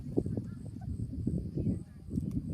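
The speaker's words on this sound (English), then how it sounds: "Oh, right, we got a gobble." A turkey gives a short, rattling gobble nearby, a brief burst of rapid throaty pulses against low outdoor background noise.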